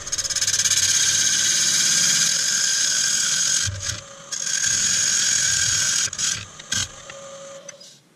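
Wood lathe trimming the top edge of an elm vase: a steady high whine with tonal ringing that runs continuously, drops out briefly near the middle, then resumes with a few short cuts and gaps toward the end, loud and close with no talk.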